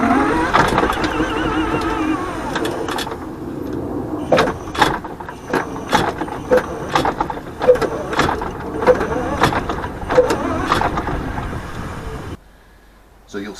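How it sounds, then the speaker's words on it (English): An electric roadster reverses and drives forward aggressively up a drive, giving off a loud motor whine and repeated sharp clunks and knocks in an irregular rhythm, which drop away abruptly near the end. "this is me reversing, going forward and reversing quite aggressively up the drive while videoing the electric motor"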